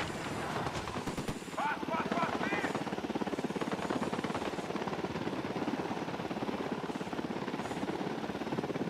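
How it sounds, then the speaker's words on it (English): Helicopter rotor thrum from Ghost Recon Wildlands, a steady loud whir filling the whole stretch, mixed with scattered gunfire-like bursts and game voices speaking over it. "Helicopter, get down."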